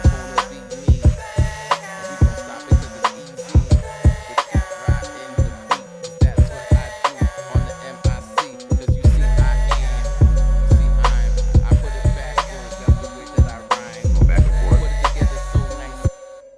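Saga synth line run through an auto pan effect with random-style movement, sharp repeated plucky notes in a steady rhythmic pattern over a sustained tone, with deep bass hits joining partway through; no talking.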